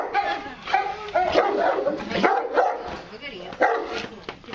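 A Fila dog in Portugal barking in a run of sharp, close barks with short whimpering yips between them, while people talk over the dog.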